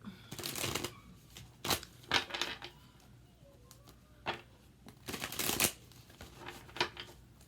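Arcanum Tarot cards are shuffled and squared up in a series of quick papery riffles and soft flicks, close and fairly quiet, with short pauses between bursts.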